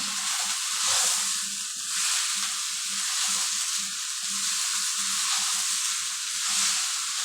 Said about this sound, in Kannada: ಕೆಂಪಗಾಗೋ ತನಕ ಫ್ರೈ ಆಗಬೇಕು.